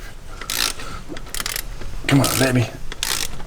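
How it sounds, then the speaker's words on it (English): A ratchet torques down bolts on an LS1 engine, heard as short bursts of metallic clicking and rubbing between pauses, close up, with someone speaking briefly over it. "Let's torque them down"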